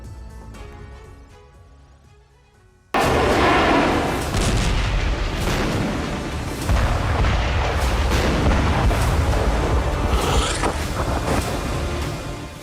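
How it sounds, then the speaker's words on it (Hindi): Bombs explode during the bombardment of Gaza in a loud, sustained barrage of deep booms and crackling blasts, coming after a quieter opening. "आसमान से बम बरस रहे हैं"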